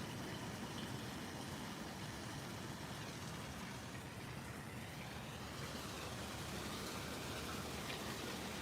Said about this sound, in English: I believe the rain is coming to an end